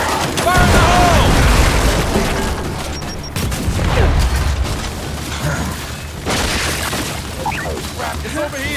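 A grenade blast in the Gears 5 shooter, a deep booming explosion up close, followed by rumbling debris and battle noise, with shouted voices over the fighting.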